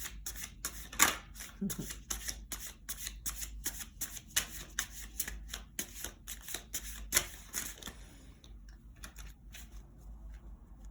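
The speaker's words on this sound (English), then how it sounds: "as I shuffle these cards" Cards are shuffled close up in a long run of crisp, rapid riffling bursts, which thin out near the end.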